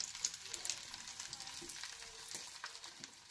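Breakfast food frying in a pan on a Jersey diner-style griddle, a steady soft sizzle and crackle with faint spatula scrapes, heard alone at low volume without talk.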